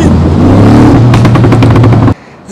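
A Mercedes G63 AMG engine revs loudly up close, breaking into a burst of rapid crackling pops before cutting off abruptly.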